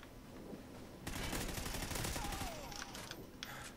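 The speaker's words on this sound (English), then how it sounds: "I'm getting shot from behind." Gunfire in Call of Duty Ghosts free-for-all multiplayer on the Overlord map, a dense burst of rapid shots coming from behind the player, loud and sustained for a few seconds with faint game sounds around it.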